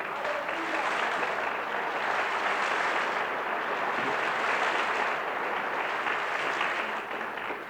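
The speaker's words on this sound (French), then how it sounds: "laissez tomber les applaudissements" Dense, even applause from a large audience at a French-language religious gathering, a steady wash of clapping that holds for several seconds without a break.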